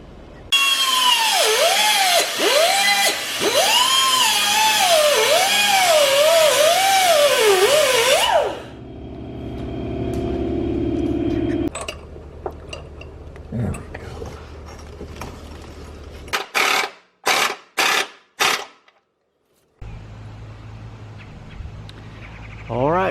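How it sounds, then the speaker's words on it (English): A power tool cuts through a sway bar bolt on a Jeep Commander with a loud, wavering whine for about eight seconds. Quieter rumbling follows, then a quick run of sharp metallic clanks. "here is the sway bar bolt that is causing all of our problems. So we're just going to cut it off."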